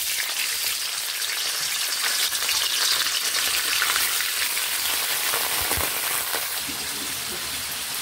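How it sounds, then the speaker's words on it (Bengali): Paneer cubes fry in hot oil in a wok, giving a loud, continuous close-up sizzle with occasional soft crackles and a brief stir, without any talking. "এখানে এখন আমি পনিরগুলোকে ভেজে নেব।"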